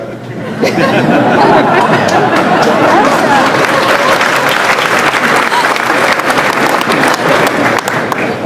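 Applause breaks out in a hotel ballroom during François Hollande's speech, dense and loud for several seconds with chatter and a few laughs mixed in.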